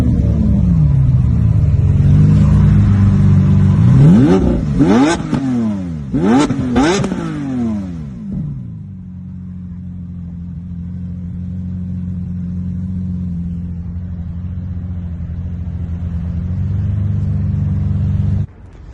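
Lamborghini Aventador SV with its V12 engine blipping through several sharp, loud revs that rise and fall quickly, then settling into a steady, deep idle rumble close by.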